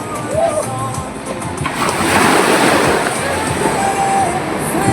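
Sea waves rolling onto a Goa beach make a broad, steady wash of surf that swells in the middle, with people talking over it.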